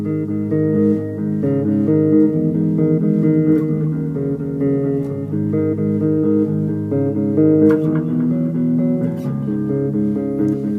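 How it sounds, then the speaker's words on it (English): Bass guitar intro for a song, played through a delay effect: sustained low notes with repeating echoes ringing over each other, loud and continuous with no voices. "And it sounds like this with the delay on."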